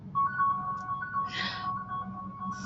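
A mobile phone rings with a steady, faint electronic tone that carries through the whole stretch over a quiet room, with brief soft sounds layered on top.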